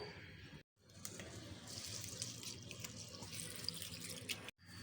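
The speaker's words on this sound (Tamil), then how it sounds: "இப்போ இந்த அரிசி பருப்பை வாஷ் பண்ணி எடுத்துகிட்டு வந்துடுவோம்" Kitchen tap water runs steadily into a sink while rice and lentils are washed for venpongal, a continuous splashing hiss with brief pauses as the flow is interrupted.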